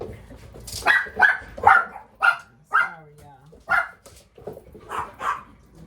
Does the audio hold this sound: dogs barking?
yes